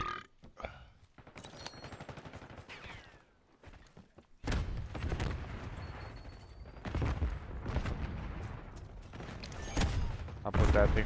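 Video game gunfire crackles in irregular bursts with sharp impacts and heavy booms, dense and loud in the second half, mixed with game noise and bits of grunting.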